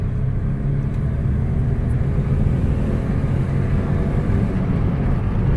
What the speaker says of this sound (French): Je vais faire écouter le turbo. Allez, grosse accélération, c'est parti.